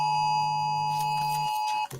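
A phone sounds an Amber Alert emergency tone, a loud continuous two-pitch electronic beep held for almost two seconds before breaking off, with a faint background murmur under it.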